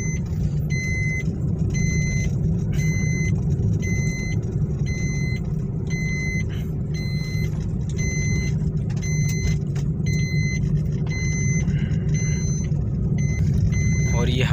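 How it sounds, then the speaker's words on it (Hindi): A Maruti Swift Dzire petrol car idling after a full service at a workshop, a steady low engine rumble throughout, with a repeating electronic beeping pattern above it and a voice speaking over it. "आवाज़ देखें, गाड़ी का काफ़ी स्मूथ हो गया।"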